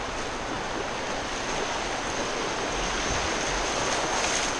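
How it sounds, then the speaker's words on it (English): River rapids on the New River rush and splash around a kayak, a dense continuous roar of churning water close by, steady and loud throughout. "There's one good splash."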